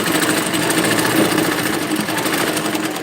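A sewing machine stitches a seam on a work dress, its motor running in a steady, continuous whir close up for the whole stretch, with no talking.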